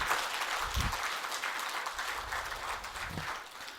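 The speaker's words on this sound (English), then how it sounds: "Can we have a round of applause," Audience applause at a bank branch audit seminar, steady moderate clapping from a seated crowd in a hall, with occasional low thumps and bumps underneath, gradually easing off toward the end.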